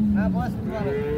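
A cow moos at a busy cattle market, two short lowing calls followed by a longer drawn-out moo, heard close over a steady crowd murmur.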